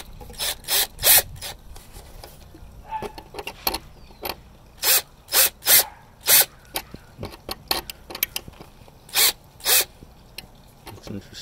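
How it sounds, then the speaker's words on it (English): Short bursts of a 7/64 drill bit grinding into a metal seed plate for storing crypto wallet seed words, a dozen or so rasping pulses of uneven length with quiet gaps between, close and fairly loud. "We're using a 7/64 drill."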